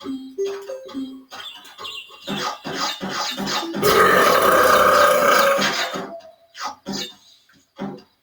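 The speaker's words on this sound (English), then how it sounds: "I like to burp for sure." A person gives a long, loud, rumbling belch of about two seconds while playing Quake and Crash Bandicoot, set between clipped bursts of chirpy game sound effects.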